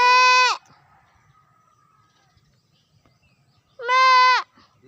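A goat on a farm gives two loud, strained bleats, one at the start and one near the end, separated by a quiet stretch with only faint background sounds.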